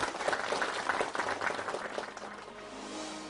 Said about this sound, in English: Ladies and gentlemen, a nice round of applause for both Charlotte and her lovely dog